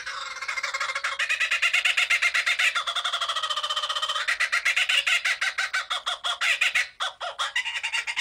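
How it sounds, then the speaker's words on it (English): A kookaburra gives its laughing call, a loud, rapid run of repeated cackling notes that rises, pulses and continues unbroken for several seconds with no other sound. "let's take a listen to a kookaburra laugh"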